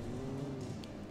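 A car engine in Alan Wake, a brief steady low drone rising slightly in pitch, close and moderately loud.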